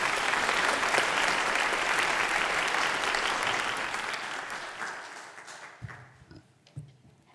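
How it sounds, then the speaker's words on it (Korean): A congregation at a church ordination thanksgiving service claps to welcome the preacher; dense applause fills the room, then thins and fades to a few scattered claps near the end. "우리 박수로 말씀을 모시겠습니다"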